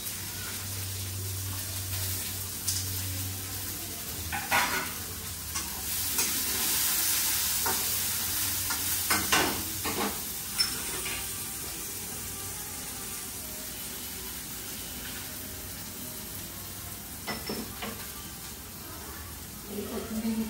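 Onion being stirred into hot oil with garlic and curry leaves for a spinach and eggplant dish, giving a steady sizzle with scraping stir strokes and occasional clinks, moderately close, no talking.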